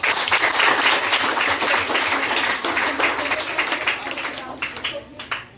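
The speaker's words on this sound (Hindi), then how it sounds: "10 जोरदार ताली बजाओ" Loud, dense clapping from a seminar audience on cyber crime, sustained across the clip and thinning slightly toward the end into a few scattered claps.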